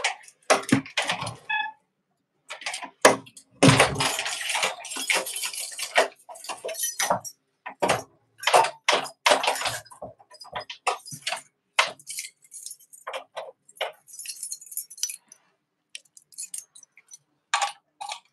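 Metal keys jangle and clatter close by in irregular clicking bursts over about eighteen seconds, with short pauses between the rattles and no voices.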